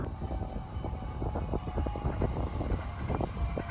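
A train rumbles past close by through the Heijō Palace site in Nara, with rhythmic clacks of wheels over rail joints and wind buffeting the microphone.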